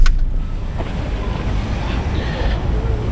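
Outdoor riverside ambience with steady wind buffeting the microphone and low rushing water, a constant near roar with no distinct events.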